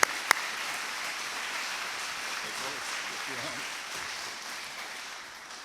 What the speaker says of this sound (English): if we can just one last time give them both a round of applause